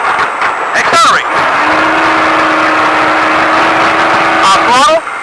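A Baja race truck engine accelerating hard, a loud sustained roar that holds steady, with rising revs and gear-change swoops near the start and end, under a voice giving driving instructions.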